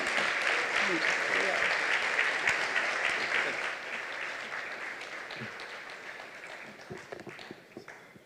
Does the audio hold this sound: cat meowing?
no